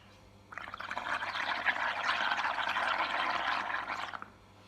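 Air blown through a straw into liquid to raise bubbles, a steady close bubbling gurgle that starts abruptly, holds for about three and a half seconds and stops, with no talking.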